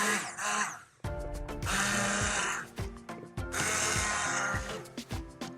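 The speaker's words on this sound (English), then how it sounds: "now I just have to blend this all together" A blender purees cauliflower soup in loud, close bursts, the motor whirring with rattling, ratchety pulses, starting and stopping several times with short gaps between runs.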